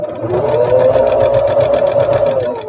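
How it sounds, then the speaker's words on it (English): A sewing machine runs steadily while it stitches along the outside edge of a quilt, making a loud, close, rapid mechanical whirr with an even pulsing rhythm throughout. "And stitching along that outside edge."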